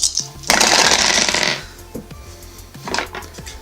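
Dice clatter down through a TTCombat dice tower in a loud rattling burst, followed by a few scattered lighter knocks and a second shorter tumble, all close up with no talking.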